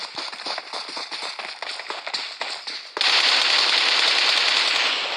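Rapid automatic gunfire in a PUBG Mobile battle, dense bursts of shots crackling steadily, then a louder, continuous roar of fire in the second half.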